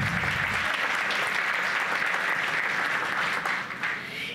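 Steady, dense applause fills a conference hall during an International Archives Day panel, a large seated audience clapping continuously at close range before the sound tapers off near the end.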